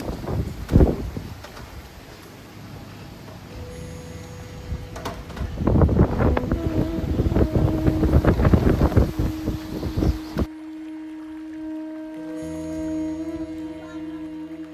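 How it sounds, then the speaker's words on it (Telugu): Strong gusty wind ahead of rain buffets the microphone in rumbling bursts, rising and falling, before cutting to a quieter steady hum. "వర్షం వచ్చేలా ఉంది, చాలా గాలి వస్తుంది"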